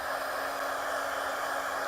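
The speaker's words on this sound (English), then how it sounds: "I've got an embosser here, which is basically a dryer." An embossing heat tool blows hot air to dry watercolor paint, producing a steady, close whooshing hiss with a faint motor whine and no pauses.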